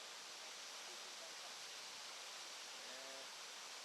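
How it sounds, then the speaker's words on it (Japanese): Ōtodoroki Falls in Tokushima, Japan, a large, powerful panoramic waterfall, pours out a steady, unbroken broadband roar that stays even from start to finish, with only a faint tonal trace near the end. "パノラマ的な滝がね、大迫力の滝が見えてきます"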